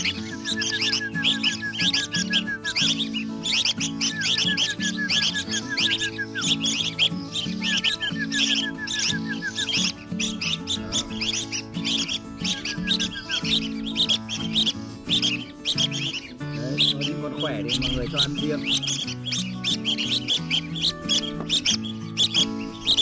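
Red-whiskered bulbul nestlings chirp continuously in close, loud, busy trilling calls with repeated high sweeps, a dense chorus running the whole time with no voices.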